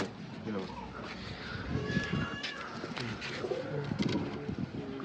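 Pigeon cooing close by, low rounded calls repeating under an ongoing human voice and other faint bird chirps.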